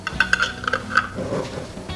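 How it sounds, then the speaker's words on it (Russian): A glass jar filled with homemade roasted vegetable spread is closed with its lid, giving a quick run of small, close, bright clinks and ticks, then a short scrape as the lid turns. "Вливаем массу до самого горлышка и закрываем крышкой."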